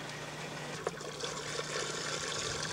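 Hot water pours into the tank of a Bambini ice resurfacer with a steady, even rush and a faint splash partway through, heard alone without talk.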